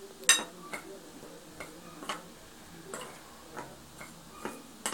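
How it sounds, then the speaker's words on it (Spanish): A flour mixture for homemade play dough is whisked in a bowl, giving faint, regular ticking taps and scrapes about twice a second, close by and quiet. "Muy bien, ahora vamos a batir."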